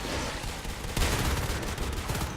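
Rapid bursts of automatic gunfire from a Natural Selection 2 competitive match, dense and continuous with overlapping shots, loud and close throughout with no voices.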